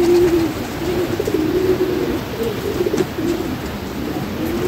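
Pigeons cooing in a home loft, a close, fairly loud series of low, repeated throaty coos in uneven phrases over a steady background hum.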